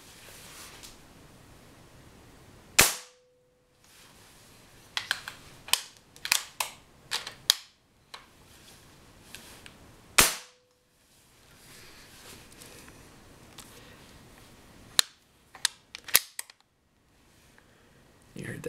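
Benjamin Marauder air rifle shots, a few sharp cracks spaced several seconds apart with quiet clicks of cocking and handling between them and someone talking softly.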